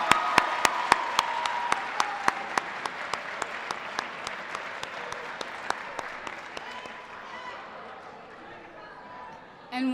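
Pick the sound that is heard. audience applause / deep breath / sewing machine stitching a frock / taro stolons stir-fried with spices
audience applause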